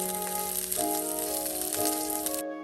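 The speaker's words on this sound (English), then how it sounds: "Once we've got them in the pan, we're going to saute them and make sure that they're all nice and brown." Meatballs sauté in a pan with a steady, soft sizzle under a sustained musical tone that cuts off abruptly near the end.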